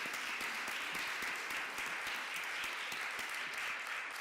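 Steady applause from the audience at a Chicago Public Schools Board of Education meeting, honoring board members; many quiet, dense claps sound somewhat distant and continue evenly for several seconds.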